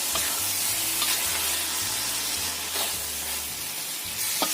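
Chicken with sesame seeds stirred in a frying pan: a constant loud sizzle with a low scraping churn from the stirring and occasional sharper spatter pops, heard close and without talk.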